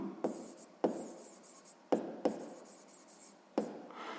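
A pen scratches across paper while a sixth-grade maths exercise is worked out, steady soft strokes broken by several sharp taps as new lines begin.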